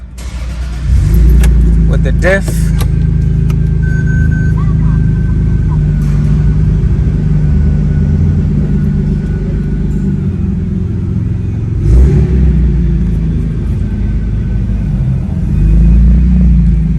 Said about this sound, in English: I'm gonna give the car a first drive